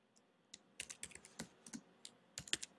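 Quick bursts of typing on a computer keyboard, a run of light clicky keystrokes in uneven clusters, close and fairly quiet with no talking.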